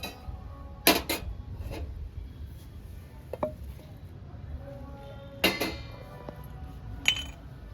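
A stone pestle pounds sesame seeds and green chillies in a stone mortar: a few sharp, hard knocks spaced several seconds apart, with quieter clinks and low background noise between them.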